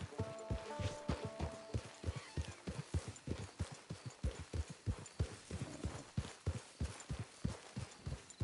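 Horse hooves clop in a steady walking rhythm throughout, close and clear, in the open world of Red Dead Redemption 2, with faint ambient tones behind.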